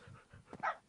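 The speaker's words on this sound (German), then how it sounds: "Ach, das ist ein Hundi." A dog in the Minecraft Feed the Beast game gives a brief, soft bark and yip, one quick faint burst standing alone.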